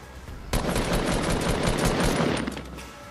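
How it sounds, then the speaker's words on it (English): Sustained automatic gunfire in a Fortnite match, teammates firing near a Christmas tree, erupting suddenly and rattling continuously for a few seconds before tapering off. "Teammates are shooting at me."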